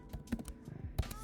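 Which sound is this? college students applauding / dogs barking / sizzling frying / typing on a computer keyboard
typing on a computer keyboard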